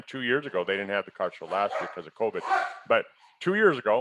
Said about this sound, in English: Excuse my dogs over there.